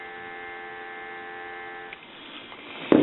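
A steady dial tone hums from the handset of a Northern Electric Galion rotary desk telephone, faint and continuous for about two seconds before fading into room noise and a sharp click.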